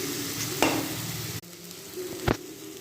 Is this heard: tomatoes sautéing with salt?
yes